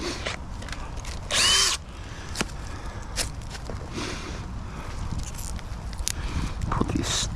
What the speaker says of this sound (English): what I'm gonna do is drill a hole on the outside of the boards.